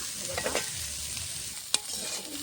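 Potatoes and flat beans fry in a pan with a soft, continuous sizzle, broken by scraping stirs and one sharp utensil clink, fairly quiet and close.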